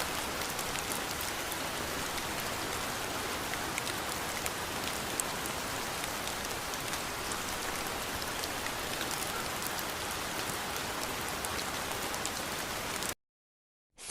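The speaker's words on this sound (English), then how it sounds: "Singapore's rain, it feels like a typhoon, but it's not." Heavy rain pours steadily in Singapore, a dense, even hiss of drops drumming on surfaces that holds without letup before cutting off abruptly near the end.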